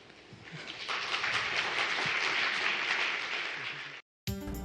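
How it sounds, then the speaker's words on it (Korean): Loud, dense applause from a lecture audience greeting a science forum speaker on brain imaging, sustained steadily for about four seconds before cutting off abruptly. "오늘의 주인공을 큰 박수와 함께 맞이하도록 하겠습니다"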